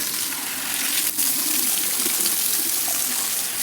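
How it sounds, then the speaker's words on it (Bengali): Water gushes steadily from a tap while the area around it is washed, a loud, close, continuous splashing stream with a brief dip near the start and no talk over it. "কলের পাড়টা আমি ধুয়ে নিলাম।"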